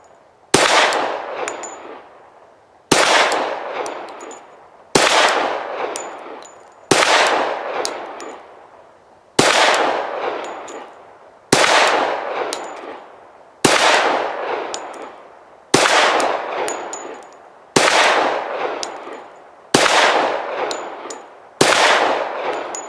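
Eleven loud, sharp Glock 40 MOS pistol shots fired one at a time at a steady pace about two seconds apart. Each crack rings out and decays before the next, with no voices.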